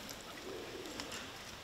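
Wood pigeons cooing at a hunting blind in the Gers, a soft low call under a steady outdoor hiss, faint and somewhat distant with no talking.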